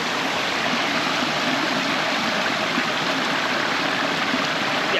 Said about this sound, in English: we're gonna go down by the stream, fill up the kitchen sink.